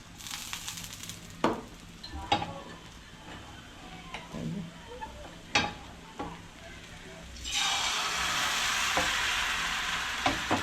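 Patishapta batter frying in a frying pan, a soft sizzle with several sharp spatula clicks and scrapes, swelling into a louder, brighter hiss toward the end; no one speaks.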